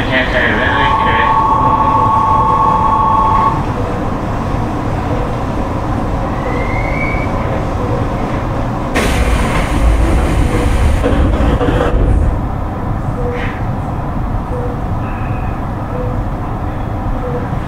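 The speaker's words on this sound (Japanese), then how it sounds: "ただいま1番線到着の電車は京成成田行き始発快特特急京成上野行きです。" Keisei 3700 series commuter train with a Toyo GTO inverter rolling along the line, a steady loud cabin rumble with rising inverter whine, an announcement chime-like tone early on and a sharp burst of track noise midway.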